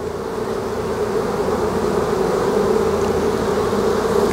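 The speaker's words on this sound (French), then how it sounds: "On peut voir les abeilles sur les fleurs de pissenlit." Honeybees forage on spring dandelion flowers, their buzzing a steady, continuous drone that stays close and even throughout with no voices.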